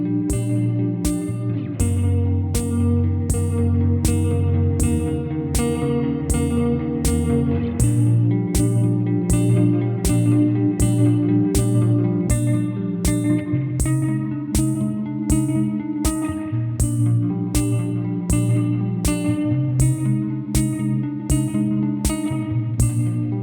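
A reverb pedal with a feedback loop turns a steady, repeated guitar-like note pattern into long, washy reverb tails that smear each attack into a dense shimmering sustain, loud and continuous with no talking.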